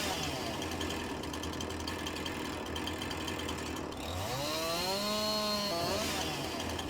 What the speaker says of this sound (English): I need to cut the limbs off.